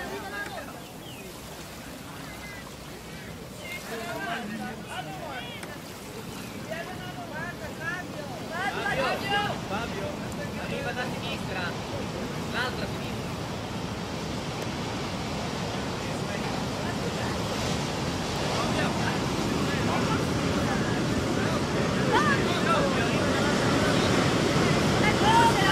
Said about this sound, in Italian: Però guarda le onde là, guardate le onde là.